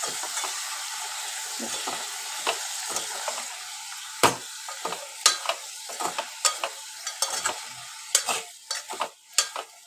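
Ponnaganti greens fry being stirred in a pan, a steady hiss of frying under repeated sharp scrapes and clacks of the spoon against the metal that grow more frequent toward the end.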